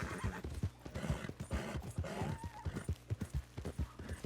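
Horse hooves from Red Dead Redemption 2, a tired mount plodding along in crisp, evenly spaced clip-clops, close and clear, with a short whinny rising in the middle.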